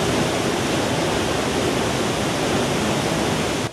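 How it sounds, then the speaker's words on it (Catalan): Waterfall of the river Tenes at Sant Miquel del Fai, swollen after heavy rain, pours in a steady, dense roar of falling water that stays loud and even throughout, with no voices. "el salt d'aigua del riu Tenes, que baixa amb un cabal molt més abundant del que es pot veure habitualment"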